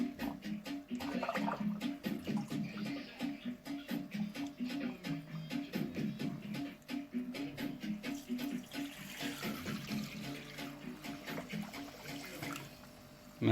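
Water is poured into an aquarium while topping it up before restarting an Eheim classic 250 canister pump, a continuous splashing and running sound with choppy, pulsing texture, fairly close and moderately loud throughout.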